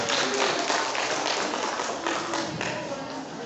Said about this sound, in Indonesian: berikan aplaus untuk mata pelajaran IPA